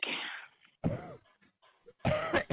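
A person gives several harsh coughs in separate bursts, close and fairly loud, with brief pauses and a softer sound between them.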